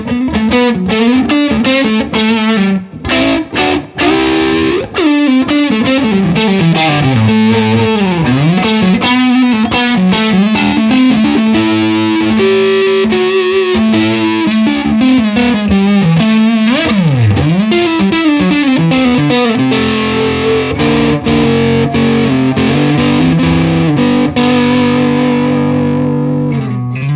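Electric guitar on its neck pickup through a Supreme distortion pedal, playing a long, loud, continuous run of distorted notes and bends with clear individual pitches, alone.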